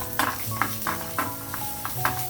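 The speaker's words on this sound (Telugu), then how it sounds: "ముందుగా నేను జీడిపప్పు వేసాను. అది కొంచెం వేగిన తర్వాత అప్పుడు బాదము, కిస్మిస్ కూడా వేసేస్తున్నాను." Cashews fry in a pan for ragi payasam, giving a soft, continuous sizzle with a few light scrapes and stirs of a spoon close by; no one speaks.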